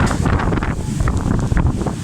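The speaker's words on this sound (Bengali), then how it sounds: "প্রচণ্ড বাতাস আর এরকম বাতাস আর এরকম বৃষ্টি পড়তেছে" Strong wind buffets the microphone in heavy, rumbling gusts during a heavy rainstorm in Mecca, Saudi Arabia, a constant roar with no speech, rain not clearly separable from the blustering.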